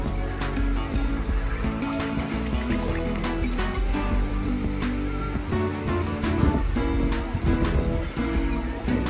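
Shallow, warm-water beach waves wash in continuously at Puerto de Alcudia, Majorca. The surf is moderately loud, and soft splashes and trickles break through a steady roar.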